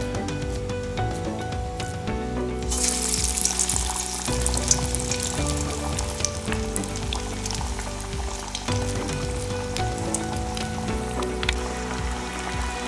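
Yellow pea vada fry in hot oil with a loud, dense sizzle that surges as more batter goes in, then settles into steady crackling bubbling, close and continuous.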